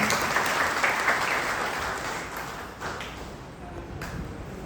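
Audience applause at a hospital retirement farewell ceremony, a dense burst of clapping that gradually thins and fades, with some voices mixed in.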